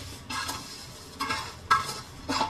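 Fried sharia vermicelli stirred into part-cooked rice in a pot, with a broad scraping swish from the spoon repeated four times at an uneven pace, close and moderately loud, with a soft hiss between strokes.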